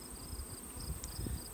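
Bees buzzing around honey boxes while syrup is robbed out, a faint, thin insect drone with soft low rumbles in a quiet outdoor setting.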